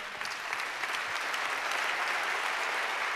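An audience applauds steadily at an annual meeting, a dense, even wash of clapping heard from moderate distance, holding at a constant level without voices.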